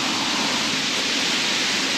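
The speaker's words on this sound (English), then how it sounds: "the rain is back with a vengeance, but we've got our umbrella." Heavy rain pours steadily on a street in Busan, a dense, even hiss with no pauses throughout.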